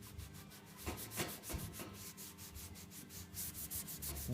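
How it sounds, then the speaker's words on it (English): A cloth rubs Evercoat 440 Express filler into a surface, giving quiet, repeated scrubbing strokes up close with no talking. "Rub it into the surface."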